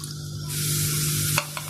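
Sliced garlic sizzles loudly in hot oil as it browns, a steady frying hiss with a brief clink near the end.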